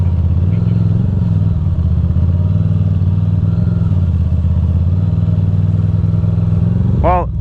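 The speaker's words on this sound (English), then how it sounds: "I'm just listening to all the hoo-ha my bike is making." A Ducati Monster motorcycle engine drones loudly and steadily while riding off-road over rocks and dirt, a constant close rumble with a brief clattering jolt near the end.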